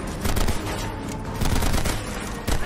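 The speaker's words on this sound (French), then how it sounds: "Une mitrailleuse" Rapid bursts of machine gun fire in the shooter game Conflict: Denied Ops, loud and dense with several overlapping volleys over a steady rumble of battle.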